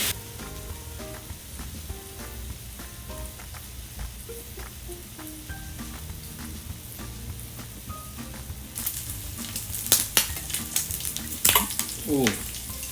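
Bacon, mushrooms and sausage sizzle and spit steadily in a hot pan for English breakfast okonomiyaki, with a continuous crackling hiss, occasional utensil clinks and scraping, and louder popping bursts near the end.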